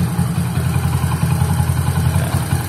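A bored-up Honda Win motorcycle engine idles through its exhaust, a loud, close, steady low-pitched burble with fast even pulses and no talk.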